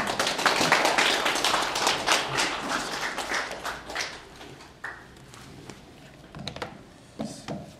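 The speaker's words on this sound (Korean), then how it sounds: "나오실 때 뜨거운 박수를 주시면 고맙겠습니다" Lecture hall audience applauding as a speaker comes up to give a talk on international law and North Korean human rights; dense clapping is loud at first, then thins and fades to scattered claps.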